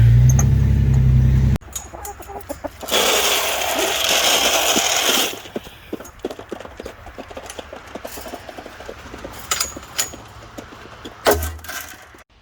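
A loud burst opens, then chickens cluck and scratch nearby amid rustling and clattering, with a few sharper clucks scattered throughout.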